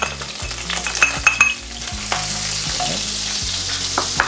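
Finely chopped chili hits hot oil in a wok, giving a loud, steady sizzle and fry with a few sharp crackles and stirring clatter up close, alone without talk.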